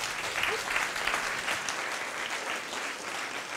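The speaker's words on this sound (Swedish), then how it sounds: "En applåd!" Steady audience applause at a conference talk, a dense wash of clapping from a crowd that holds at an even level for the whole stretch.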